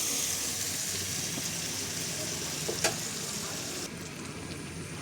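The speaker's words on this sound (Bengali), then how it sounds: "এ দিয়ে তেলে দিয়ে দেবো, দিয়ে মশলাটা ভালো করে কষবো যতক্ষণ না মশলার কাঁচা গন্ধটা কেটে যাচ্ছে।" A spice paste of turmeric and chilli powder sizzles in hot oil with a continuous close frying hiss, plus a brief clink of stirring partway through.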